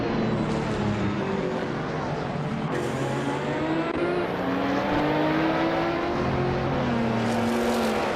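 A Porsche RS Spider Evo race car engine in a racing video game drones and climbs through gear changes, rising and falling in pitch at moderate level.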